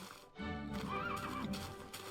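A horse whinnies in the Minecraft Infdev+ game, a clear, fairly loud neigh with a rising and falling pitch that runs for about two seconds, with no talking over it.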